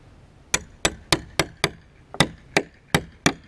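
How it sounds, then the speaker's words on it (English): A hammer drives a bolt through a hole in a wooden gate board with ten sharp, evenly spaced blows, loud and close, each ringing briefly. "Just hammer it on through."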